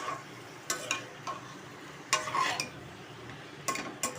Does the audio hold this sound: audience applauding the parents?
no